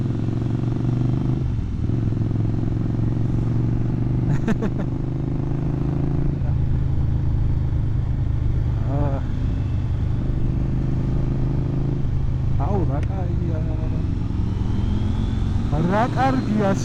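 Motorcycle ride along a cool forest road near Sabaduri, with a steady engine drone running throughout and a rider's voice talking intermittently over it.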